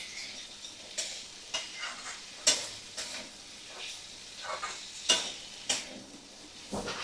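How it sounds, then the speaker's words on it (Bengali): Chickpeas cook with chicken and spices over a medium flame, a steady low sizzle under repeated scraping strokes of a spoon against the pan, each stir rising in a soft rhythmic pulse. "মশলা আর চিকেন সমেত কাবলি ছোলা আমি ভালো করে কষিয়ে নেব"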